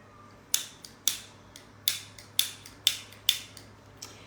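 A lighter being struck repeatedly to get it going, giving sharp metallic flicks roughly every half second, about seven strikes, close and crisp against a quiet background hum.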